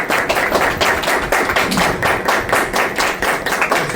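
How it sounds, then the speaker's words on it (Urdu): A church congregation claps together during an Urdu sermon, loud, steady, rhythmic claps at a brisk even pace, with no voices over them. "زوردار پھر سے تالیاں۔"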